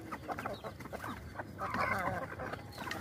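Laying hens clucking nearby in a farm yard, a busy overlapping chorus of short clucks and cackles at moderate loudness.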